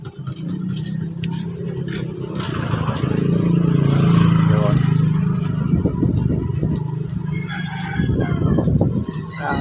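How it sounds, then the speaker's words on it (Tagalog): Fighting cocks crow loudly several times, some close and some farther off, with clucking and a faint engine in the background. "Itong lugar na maraming manok pang sabong"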